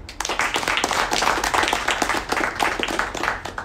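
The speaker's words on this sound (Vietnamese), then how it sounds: "các anh chị hãy dành cho anh Leo Cường một tràng vỗ tay thật lớn đi ạ" Audience members at a finance and investment talk clap loudly for a presenter, a close, lively burst of individual hand claps that stays strong for several seconds.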